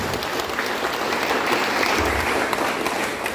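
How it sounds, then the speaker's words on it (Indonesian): Steady, dense applause from a large audience at a labor union gathering in North Sumatra fills the room, many hands clapping continuously at an even, loud level. "kita harus berikan tepuk tangan yang semeriah-meriahnya"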